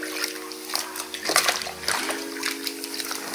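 A shampoo bomb drops into bath water with a few close splashes and sloshes among running-water noise, and voices talk around it.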